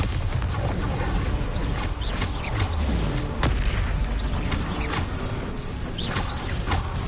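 Bombarda blasting spell explosions in the video game Hogwarts Legacy during a troll fight, heavy booming blasts and crashes layered over continuous loud game noise, close and intense, with no talking over it.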